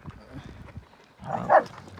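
Kangal dog barking: one close bark stands out near the end of a short stretch of low, faint background sounds.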